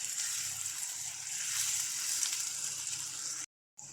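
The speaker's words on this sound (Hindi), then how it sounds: "अदरक लहसुन के पेस्ट को 2 मिनट तक फ्राई करेंगे" Ginger garlic paste fries in a pan with a continuous, close, bright sizzle and crackle that holds steady for several seconds, broken by a brief silent gap near the end.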